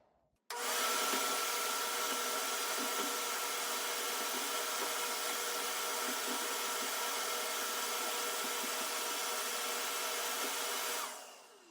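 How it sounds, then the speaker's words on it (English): A vacuum cleaner switches on abruptly and runs with a loud, steady broadband whine for several seconds, sucking ash from a masonry fireplace chimney, then cuts off near the end. "we're going to want to turn on our vacuum cleaner"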